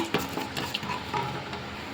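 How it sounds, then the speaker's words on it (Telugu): Cumin and mustard seeds fry in hot oil for potato rice, a quiet close sizzle with small pops and a few scrapes of a spoon against the pan, no voices. "ఒక స్పూన్ చిలకర అలాగే ఒక స్పూన్ ఆవాలు వేసుకుంటున్నాను ఇవి కొంచెం ఫ్రై అవ్వాలి"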